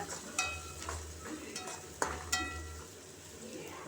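Onions fry in a little oil for egg parotta, giving a faint continuous sizzle with a few sharp utensil taps and stirring scrapes, close by and quiet.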